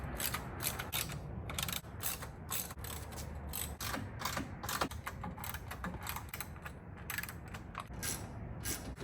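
Steady ratchet clicking while fasteners are tightened on the grille of a Ford Bronco Raptor, a rapid run of sharp clicks repeating close by with creaky mechanical handling, no talk.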